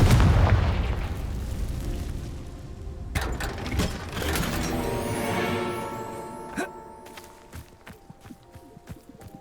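Spell explosions from the video game Hogwarts Legacy: a loud rumbling blast, then a series of sharp booms and crackling bursts amid footsteps and game ambience, with no voices.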